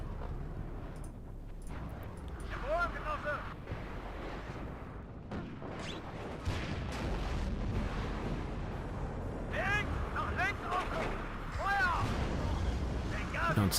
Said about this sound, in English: Let's drop some mortars on them.